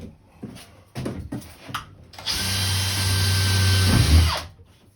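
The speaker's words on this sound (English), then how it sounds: "make sure, whatever you do, drill the bath." After a few scattered knocks, a power drill whirs loudly and steadily for about two seconds while drilling into a bath, then slows and winds down.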